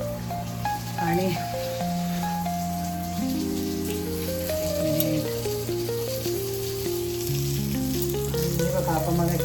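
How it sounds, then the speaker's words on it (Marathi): Mackerel (bangda) fish shallow-frying in a pan gives a steady, close sizzle that runs the whole time beneath loud, sustained background music. "आपण मग एक बांगडा फ्राय करायला टाकलेला, आता त्याला परतून मारूया."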